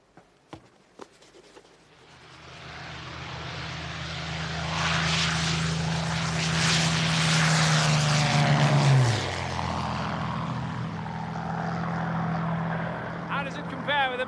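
A propeller-driven aircraft engine drones loudly as the plane flies past, rising from near silence into a sustained roar with a falling pitch as it passes, then fading slightly, with brief voices at the start.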